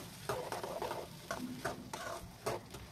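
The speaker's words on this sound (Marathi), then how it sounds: "या चण्यांना तेलामध्ये छान असं फ्राय करून घ्यायचं आहे, बघू शकता या प्रकारे" Chickpeas fry in oil in a pan, with a soft, continuous sizzle broken by repeated scraping stirs of a spoon against the pan, heard close and at moderate volume.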